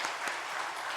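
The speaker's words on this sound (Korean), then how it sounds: "하나님 경배의 박수." Applause from a church congregation during a Sunday morning worship service, a steady dense wash of clapping with no break across a short moment.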